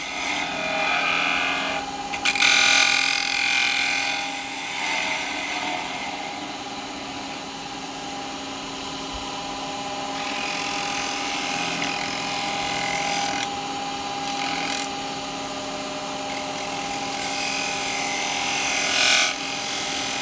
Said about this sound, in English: I'm just using the 1/2-inch spindle gouge